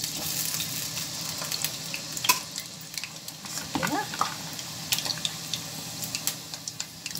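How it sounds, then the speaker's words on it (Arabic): Small potato cubes fry in a pan of oil, giving a steady soft sizzle with occasional faint clinks and light stirring, at a low level with no voices. "حطيت الطاسه فيها الزيت، وهنبتدي نحط اول حاجه البطاطس اللي بتتحمر مكعبات صغيره خالص اهي"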